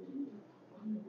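A red-necked high flyer pigeon coos close by, two soft throaty coo phrases with a quieter murmur between them.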